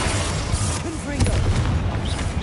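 Confringo spell explosion in the Hogwarts Legacy game, heavy booming impacts within a loud, dense wash of battle noise, with a voice calling out over it.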